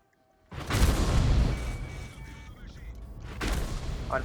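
An artillery shell strikes a tank in the World of Tanks game: a sudden loud boom after near silence, then a rumbling decay and a second blast-like burst near the end.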